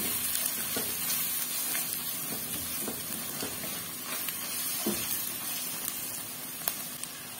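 Chilli powder, turmeric, salt and dried fenugreek leaves frying with tinday (apple gourd) in a pan: a steady broadband sizzle runs throughout, broken by light scraping clicks from a spoon stirring the spices.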